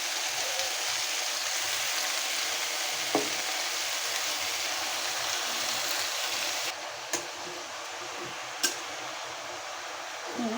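Bottle gourd leaves frying in a pan while being stirred, giving a steady, close hiss of sizzling oil with a few sharp clinks of utensils scraping and tapping the pan.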